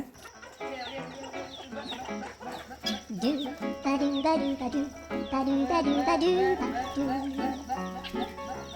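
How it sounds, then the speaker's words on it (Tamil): A flock of chickens clucks busily nearby, a dense overlapping chatter, with a person's voice talking over them. "நம்ம கோழிங்களுக்கெல்லாம் சோறு போடுறோன்னா போதும் எங்கே இருந்தாலும் படையோடு வந்துடுவாங்க"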